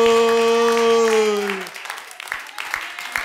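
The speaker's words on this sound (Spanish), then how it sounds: "Ovación a Dios." A church congregation breaks into applause during a sermon, scattered claps starting faint after a sustained sung or shouted tone fades, then growing into looser clapping.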